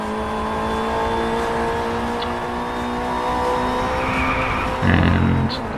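BAC Mono race car in the racing game DRIVECLUB, its engine droning loud and steady at high revs with tonal shifts as it pushes through a lap, ending in a short burst of tire skidding.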